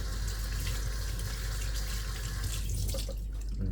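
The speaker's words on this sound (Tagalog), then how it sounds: "bago ang lahat, maghugas muna tayo ng kamay" Hands are washed under running tap water with hand wash before preparing grilled chicken and fish, a steady close, loud stream hissing throughout with a few faint drips and splashes near the end.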